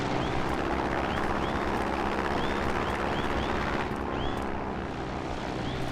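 Drone propellers in the game Trailmakers drone through a test flight, a continuous dense whirring hum at steady loudness with faint chirping sweeps recurring throughout.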